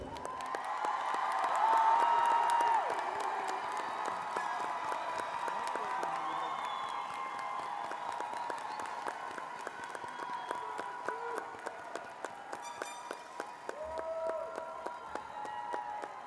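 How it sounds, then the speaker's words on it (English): Sustained crowd applause with cheering and whoops fills a graduation ceremony for the class of 2022 at IDEA Eastside, loud and dense throughout, with scattered shouts rising above the steady clapping. "one more round of applause for our graduating class of 2022"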